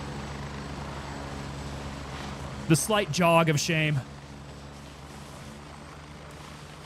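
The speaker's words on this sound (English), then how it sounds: "Ah, that helicopter's loud." A helicopter in the military shooter game Gray Zone Warfare drones steadily overhead throughout, a low continuous rotor hum with someone talking briefly over it.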